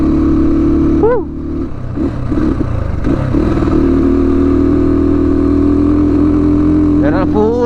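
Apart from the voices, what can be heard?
motorcycle engine straining uphill on a jungle road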